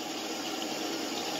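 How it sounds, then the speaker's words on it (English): Water runs steadily from a tap into a plastic bag, a continuous close, even splashing rush of filling liquid with no break and no talking over it. "Then you want to fill it up with some water I got right here."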